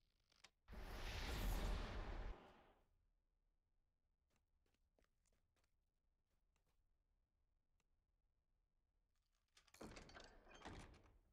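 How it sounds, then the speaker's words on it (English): A door in a video game opening and closing: a loud creaking swing, a quiet pause with faint ticks, then a second creaking sweep as it shuts. "that does just open and close the door"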